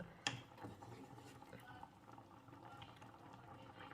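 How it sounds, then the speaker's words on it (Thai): Thai curry with fish balls bubbling in a pot, a soft continuous simmer with light patter, one sharp clink near the start, close and fairly quiet, no one talking. "เดือดใหญ่แล้วค่ะเพื่อนๆ"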